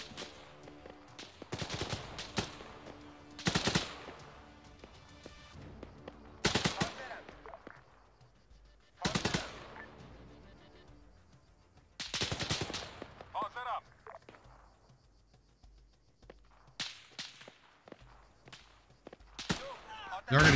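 Gunfire in the military video game Arma 3: scattered loud rifle shots and short automatic bursts, sharp cracks with rolling echoes separated by quieter gaps, heard over faint background and occasional speech.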